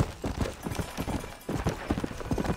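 Horse hooves clip-clop in steady rhythmic strides in the Red Dead Redemption game, the footfalls close and clear over a quiet background.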